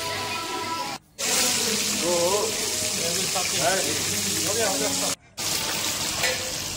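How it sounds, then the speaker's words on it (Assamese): Pomfret fish fry in a pan with a steady, broad sizzle that runs throughout, briefly cut off twice, while a voice talks over it at moderate level. "মাছখিনি এফালে ফ্ৰাই কৰি আছোঁ, ধুনীয়াকৈ কালাৰ উঠিব।"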